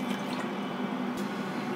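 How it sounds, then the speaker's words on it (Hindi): Water, about a liter, pours steadily into a cooking pot in a home kitchen, a continuous splashing fill with no talk. "अब इसमें मैं पानी डालूँगी।"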